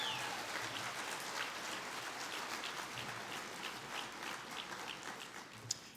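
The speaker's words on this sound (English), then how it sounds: "let's give them all a round of applause" An audience at a patriotic luncheon applauds, a sustained patter of many hands clapping at moderate distance, steady throughout with a slightly sharper clap near the end.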